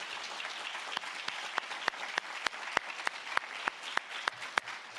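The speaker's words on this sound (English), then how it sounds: "Please give him a round of applause" An audience applauds at a workshop panel session: a dense, steady patter of many hands, with a few sharper individual claps standing out and a faint murmur of voices underneath.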